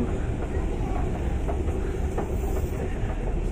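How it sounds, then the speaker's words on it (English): Train rumbling through a large London station, a steady loud low roar with faint rhythmic clatter, continuous and close, with no speech. "Massive train station."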